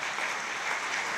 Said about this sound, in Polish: Wielkie brawa dla